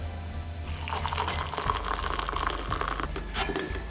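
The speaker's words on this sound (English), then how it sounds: "I'm just going to be adding on some boiled water" Boiled water pours into a teacup of turmeric tea with a steady splashing trickle that shifts in tone partway through. Faint clinks of the cup come near the end.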